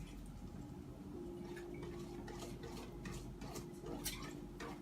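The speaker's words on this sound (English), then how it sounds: "so we're gonna continue to stir" Thick pecan pie filling stirred in a pot, giving soft repeated scrapes and light clinks of the utensil against the pot over a low steady background hum.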